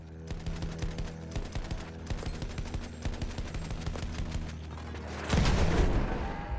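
Rapid, sustained gunfire in a World War II–style online shooter, with dense repeated shot cracks rattling over a low rumble, then a heavier, louder explosion-like burst near the end.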